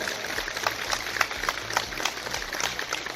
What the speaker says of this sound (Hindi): उनके लिए जोरदार तालियों से स्वागत करें।